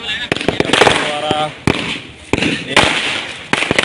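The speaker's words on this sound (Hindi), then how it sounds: "मनाया जा रहा है पटाखा फोड़ करके" Firecrackers burst in quick sharp bangs at a political party celebration in a town square in Kathikund, Jharkhand, loud and close, with someone speaking over the crackling pops.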